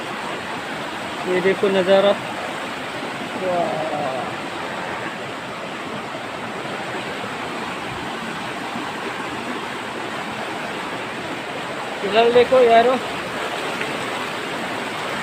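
River water flowing steadily through a jungle, a broad continuous rush close by, with someone talking briefly over it at a few points.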